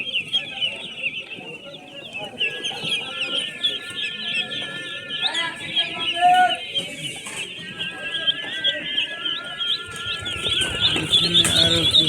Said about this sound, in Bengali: এখানে আরো কি হাঁসের বাচ্চা।